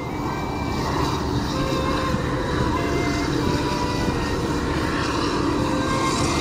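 An airplane passes overhead during a ride on Chinese New Year's Eve, heard as a loud, continuous broadband roar that holds steady throughout, with no speech over it.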